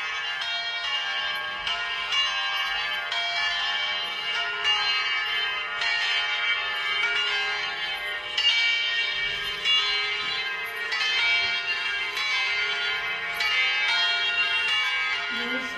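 A bell rings steadily and brightly for a long stretch, with repeated strikes blending into a sustained, shimmering tone at moderate loudness.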